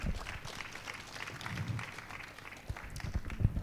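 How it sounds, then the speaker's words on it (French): A training-session audience in a Bible study gathering gives a fairly quiet, scattered round of applause, with light murmuring and shuffling underneath and a few sharper claps toward the end. "Est-ce qu'on peut applaudir pour ce moment si enrichissant?"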